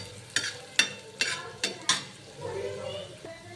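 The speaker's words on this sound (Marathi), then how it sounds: "आता टाकायचं कांदा कट केलेला. कांदा भाजू द्यायचा आता." Chopped onion frying in a pan while paratha is being made, a soft sizzle punctuated by five sharp spatula knocks and scrapes early on, then a gentler continuous fry.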